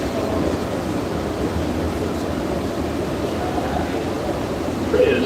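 A 6 train on the New York subway rumbles in a steady, loud roar of rolling wheels and rushing air, unchanging throughout.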